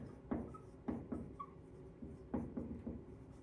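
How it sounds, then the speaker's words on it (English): Scratchy, faint pen strokes as an equation for a subtraction word problem is written out, in short bursts of strokes with brief pauses between them and no talking. "Now I'm going to write my equation."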